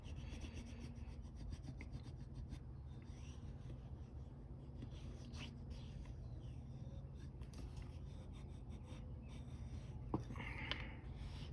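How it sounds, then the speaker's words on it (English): A burnishing tool rubs over a kolrosing-carved wooden spoon, giving a steady, close, soft rasping friction that continues throughout with no talking, plus a small clack near the end. "burnishing tool. Rub it all in until things don't feel rough anymore."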